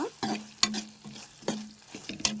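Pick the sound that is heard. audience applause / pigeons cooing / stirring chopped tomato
stirring chopped tomato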